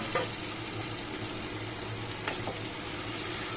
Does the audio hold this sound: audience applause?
no